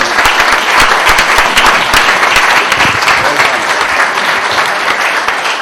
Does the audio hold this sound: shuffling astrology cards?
no